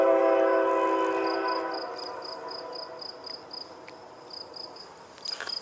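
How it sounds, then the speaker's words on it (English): A train passes in the distance near the Harriman hills, a loud rumbling with tonal horn-like bands that fades away, leaving steady chirping crickets and faint clicks. "there's actually a train"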